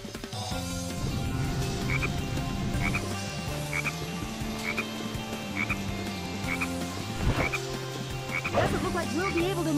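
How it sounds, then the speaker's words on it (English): Frog croaking in the Sonic Heroes video game, a repeated short regular croak recurring roughly every half second, heard over loud continuous game music. "Detecting a frog in the vicinity."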